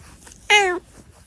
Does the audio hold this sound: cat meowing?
yes